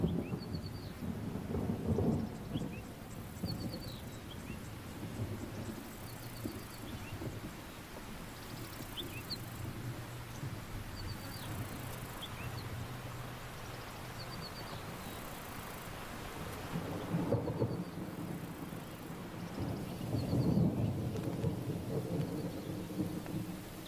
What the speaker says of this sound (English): The mother and calf turn their back on the driving rain.